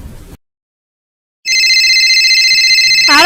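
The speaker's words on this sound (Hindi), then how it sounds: "आ रहा फोन।" A phone ringtone for an incoming call plays loud and steady after a short silence, a bright repeating electronic melody that runs until the clip ends.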